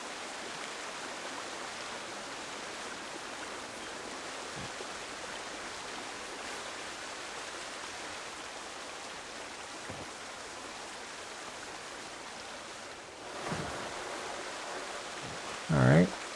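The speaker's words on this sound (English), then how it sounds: "Oh, water rapid splash." Water rushes steadily at an indoor waterpark, a broad continuous wash with a louder splash near the end and faint voices underneath.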